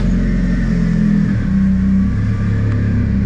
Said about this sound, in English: they're the most aggressive mean exhaust you can put on an 86